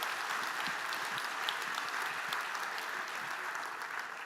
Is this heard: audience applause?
yes